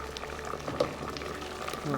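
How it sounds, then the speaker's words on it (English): A pot of water with Savoy cabbage boiling on the stove, a steady low bubbling and simmering hiss that continues throughout at moderate volume. "Time to check in on the Savoy cabbage. Looks like it's cooking nicely."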